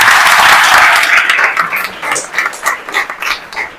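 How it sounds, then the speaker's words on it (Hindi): Audience applause in a crowded hall at a Hindi motivational business talk, dense clapping at first that thins into scattered, uneven claps toward the end, with no voices over it. "ताली बजा दे इस बात पे"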